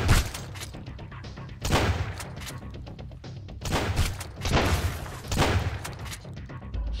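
Several booming shotgun blasts go off in Sunkenland, loud and close, with a few heavy reports spaced over the seconds amid background game noise.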